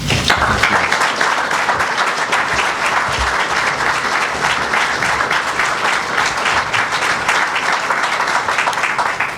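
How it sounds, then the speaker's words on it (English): Loud, sustained applause from a press-conference audience greeting Mark Fox as the new Georgia men's basketball head coach, many hands clapping in a thick continuous roar that stays strong throughout. "Thank you so much for the applause."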